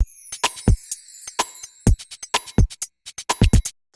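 An uneven, syncopated drum loop with punchy kicks, snappy snares and hi-hat ticks, played alone with loose, laid-back R&B-style spacing.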